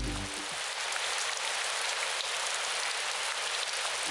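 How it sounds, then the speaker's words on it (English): Steady rain falls in a dense, even hiss of drops on a street, loud and continuous with no voices. "Then it began to rain."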